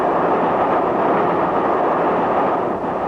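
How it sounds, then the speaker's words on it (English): Train wheels roll in a dense, continuous rumble and rattle over crossover points on a London, Brighton and South Coast line, loud and steady throughout with no voices, produced as a radio drama sound effect. "Did you hear that rattle of the wheels just now? Feel the whole train sway slightly?"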